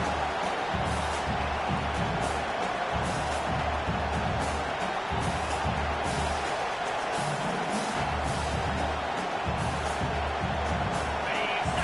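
Stadium crowd noise from a college football video game, a steady, dense roar of a large crowd that carries on evenly for about twelve seconds, with a faint murmur of cheering in it.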